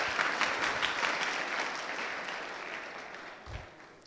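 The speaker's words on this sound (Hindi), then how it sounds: "इनका ताली बजा करके हार्दिक स्वागत किया" A school assembly at Gandhi Bal Mandir applauds to welcome guests, a dense burst of many hands clapping together that starts loud and gradually fades over a few seconds.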